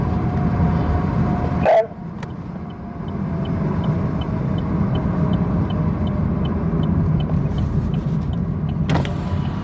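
Steady road traffic rumbles past as cars roll by nearby, a continuous broadband wash with a sharp transient early on and faint repeated high ticks; a brief spoken word comes in near the start.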